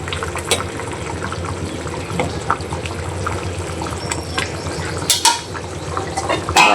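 Egg, drumstick and potato curry simmers in a small, full pot, a soft bubbling hiss broken by occasional clinks of a utensil against the metal.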